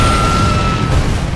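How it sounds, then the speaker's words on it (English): A loud, sustained deep roar fills the clip, a heavy rumbling explosion blast from a Saudi jet after a midair collision, with no break, close and overwhelming. "a massive explosion tears through the Saudi jet."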